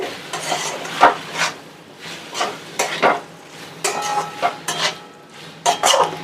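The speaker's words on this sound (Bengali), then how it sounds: "এবারে একটু নেড়ে নিতে হবে" Mushrooms coated in chilli sauce and soy sauce are stirred in a pan, with a spatula scraping and clinking against the metal in repeated strokes over a faint sizzle.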